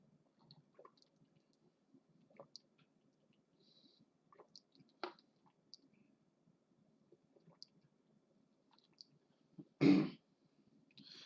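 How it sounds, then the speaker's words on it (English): One sharp, close cough rings out near the end after a stretch of near silence broken only by faint clicks and small noises. "Sorry, just had to cough."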